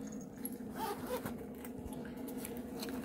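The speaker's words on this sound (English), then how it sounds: "now, when you zip this part" A zipper runs along a stationery storage case in a craft room, a close, raspy rattling pull that lasts the whole stretch with no talk over it.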